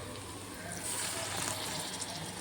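Water gushes and splashes into a pan of frying masala in a short steady pour, close by and fairly loud, over a faint background hiss.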